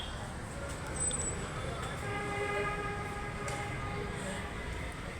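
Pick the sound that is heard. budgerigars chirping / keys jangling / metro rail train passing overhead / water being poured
metro rail train passing overhead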